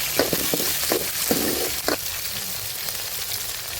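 Onions, garlic and curry leaves fry in a pan for a village dried-fish kuzhambu, with sharp crackling bursts over the first two seconds settling into a softer steady sizzle, close by and with no talk.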